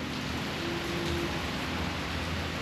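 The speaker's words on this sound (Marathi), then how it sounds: "बघा परत पाऊस चालू झाला" Dense, even hiss of heavy monsoon rain in the Konkan region of India pours continuously, a broad wash of sound with no breaks and no voices.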